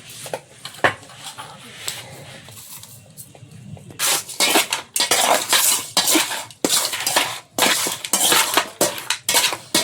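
Fish heads being mixed by hand with salt and turmeric in a metal bowl, heard as loud, irregular clattering, scraping and clinking that grows busier after a quieter start, with brief muffled voice sounds.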